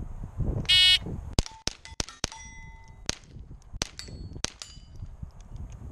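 Rimfire rifle shots at an outdoor shooting match. Several sharp cracks are spaced a second or so apart, each followed by a ringing clang from a struck steel target, with a brief beep at the start and no talking.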